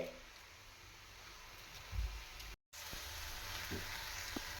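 Vegetable momo filling sizzles softly while it is stirred and sautéed in a pan, a faint continuous frying hiss with a couple of brief scraping stirs, heard with no talking.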